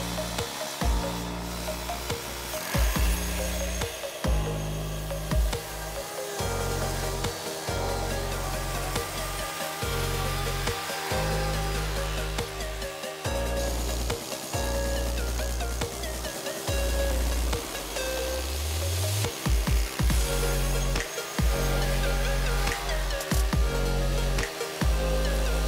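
A mower cutting grass for a food plot, a steady loud broadband engine roar with rhythmic low-end surges and dips as it works across the field, running close throughout with no talking.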